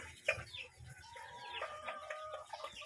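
Several chickens cluck and chatter softly nearby in short, irregular bursts, with a sharper squawk near the start.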